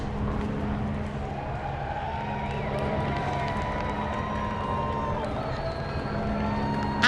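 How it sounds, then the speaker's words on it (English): Crowd noise outside in central London during the handover of the UK prime minister after the 2024 general election, a steady distant roar of cheering with traffic rumble, sustained and fairly even throughout. "there was quite a cheer went up from the crowd behind us"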